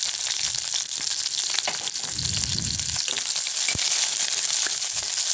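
Small onions and slit ripe green chillies sautéing in a pan for idli sambar, a loud steady sizzle running throughout with a few soft stirring scrapes, close up and alone.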